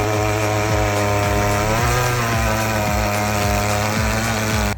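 A powered earth auger drills holes for concrete foundation piles, its small engine droning loudly and continuously with rhythmic load changes throughout, no speech.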